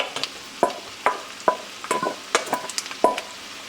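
Mushrooms cook down in a pan for a Marsala cream spinach pasta, with a low sizzle broken by a series of sharp utensil clacks and stirring scrapes, roughly one every half second, close by.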